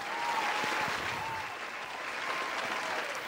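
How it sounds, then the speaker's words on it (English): A crowd clapping-and-cheering sound effect plays steadily throughout, a full round of applause at moderate volume. "I hit the round of applause"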